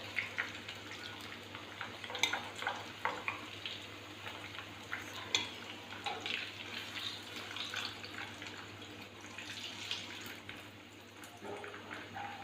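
Beef Peshawari chapli kebabs frying in oil, a steady crackling sizzle with scattered pops running continuously and close by, no voices over it.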